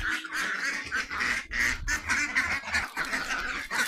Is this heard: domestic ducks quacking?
yes